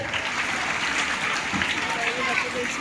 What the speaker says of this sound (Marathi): जोरात टाळ्या वाजवायच्या.